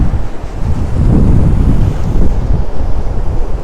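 Strong wind buffets the microphone at a lake beach while waves wash and break steadily close by, loud and continuous with no voices.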